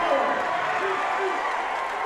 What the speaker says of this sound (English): the roar of the crowd is, the decibel level is picking up here now too at Conley Gym